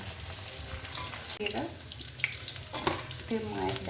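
Paneer cubes frying in hot oil in a pan sizzle steadily while being stirred, with occasional scrapes and clinks close up and no talking.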